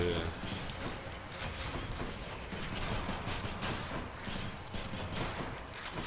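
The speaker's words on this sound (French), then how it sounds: "L'attaque, donc, c'est le mitraillage là, comme ça." Rapid strafing machine-gun fire in the action game Hades, a dense continuous rattle of shots with sharp bursts layered over game effects, loud and unbroken throughout.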